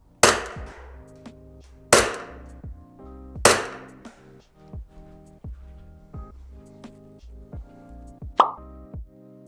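A KWA ATP-GT airsoft pistol fires at an indoor target range: three sharp, loud, spaced shots in the first few seconds, then a fourth near the end, each a crisp pop with a short decay over steady background music.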